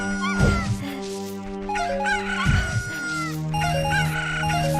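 Cartoonish chicken clucks and squawks from Ocarina of Time Randomizer, repeated bursts over a steady game music bed with bright melodic tones.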